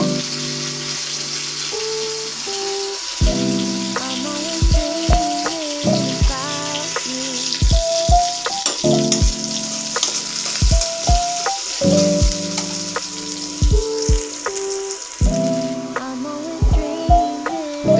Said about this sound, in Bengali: এখন শাকটা ভাজার জন্য কড়াইতে কাঁচামরিচ, পেঁয়াজ, রসুন দিয়ে দিচ্ছি।